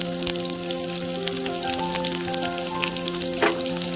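Dry red chillies and curry leaves sizzle steadily in hot oil, a continuous close crackling fry with scattered pops and no talking over it.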